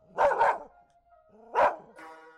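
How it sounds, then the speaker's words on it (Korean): An excited dog barks in a horror radio drama, two quick close barks followed after a pause by another bark and a whining, tonal yelp, loud and alone with no talk. "같이 흥분한 누렁이가 급기야 컹컹대며 짖기 시작했다"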